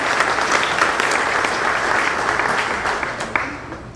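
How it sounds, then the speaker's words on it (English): Guests at a university's 60th anniversary gala break into applause, a loud, full wash of many hands clapping that holds steady and then begins to taper toward the end. "Would everyone meet my wife, Lori, right there? For a round of applause."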